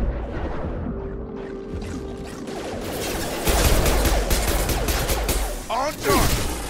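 Heavy gunfire in a Mass Effect 2 battle, a dense, loud, continuous barrage of rapid shots that grows stronger midway, with bursts and impacts layered together.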